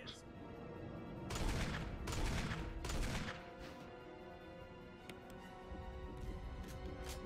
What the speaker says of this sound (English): Use the rocket launcher!